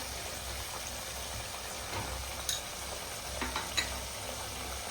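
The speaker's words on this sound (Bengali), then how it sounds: "এবারে এই ভোলা মাছের ঝাল বানানোর জন্য মশলাটা কিন্তু আমি পুরো 5 মিনিটের মতন খুব সুন্দর করে কষিয়ে নেব।" Spice paste for a Bhola fish curry frying in a pan, a steady close sizzle with a few faint stirring scrapes and no voices.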